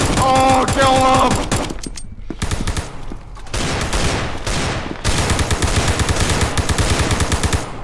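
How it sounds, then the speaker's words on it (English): Rapid machine-gun fire rattles in dense sustained bursts in an SCP video game, loud and close, broken by a short lull before the shooting resumes. "why were you firing at us?"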